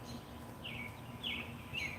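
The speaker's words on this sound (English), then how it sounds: "We have a bird paradise behind the house." Birds chirp in a backyard bird haven in Florida, three short bright calls spaced about half a second apart over a steady low outdoor hum, fairly faint.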